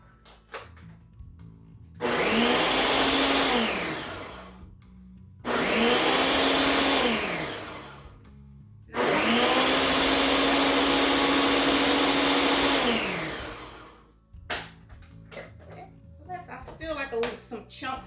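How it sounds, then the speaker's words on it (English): A blender purees pinto bean soup in three loud, steady motor bursts, each several seconds long, separated by brief pauses and followed by quieter kitchen handling. "blend it some more"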